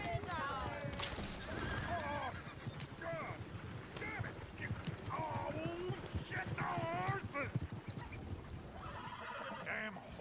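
Horses in Red Dead Redemption 2 neigh and whinny repeatedly over rhythmic clip-clopping hooves, with a few squealing calls, busy and close throughout.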